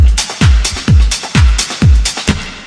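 A steady drum pattern, each hit trailing into a long, washy two-second reverb tail that smears into the next beat.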